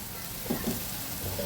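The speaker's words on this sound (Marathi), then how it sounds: "अशा प्रकारे 5 ते 7 मिनटं आपण हे फ्राय" Onion masala frying in oil for paneer masala gives a steady, dense sizzle that fills the whole span, close and fairly loud, with a few soft stirring bumps and no talk.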